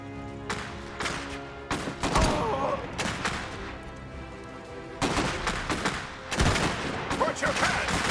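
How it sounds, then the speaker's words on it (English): Gunfire and explosions in an Iron Harvest 1920+ real-time strategy battle, with bursts of loud shots and heavy blasts in irregular clusters among quieter gaps and steady background rumble. "Taking fire!"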